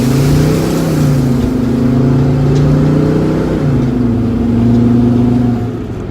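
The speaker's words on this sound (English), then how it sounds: "So now I put into park, we're gonna put into drive. Let's see what happens as I accelerate over here." A van pulling away after being shifted into drive on a small street: a loud, steady engine drone from inside the cabin, its pitch rising and dipping slightly as it accelerates, easing off at the end.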